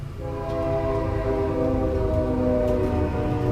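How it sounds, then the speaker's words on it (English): A train rumbles past with a sustained horn blaring over the rolling noise, fairly distant and steady, no voices. "I'll let this train get by real quick."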